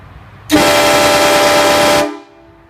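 A Klein HK7 air horn gives one loud, sustained blast of about one and a half seconds, with a sharp onset and a brief fade. It is heard close up and alone.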